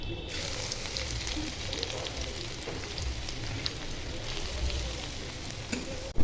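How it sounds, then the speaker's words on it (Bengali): Onions fry in hot oil with a continuous crackling sizzle, soft and even throughout with scattered pops like light rain, and no voices. "তেল গরম হয়ে গেছে, এখন বেরেস্তা পেঁয়াজ ভেজে নিব।"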